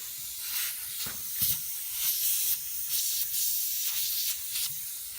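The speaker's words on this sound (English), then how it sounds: "Ooh, got air leaks there." Compressed air hisses steadily from a leaking air compressor hose fitting near a regulator and hose reel, a close broadband rush with a few brief surges and no voices.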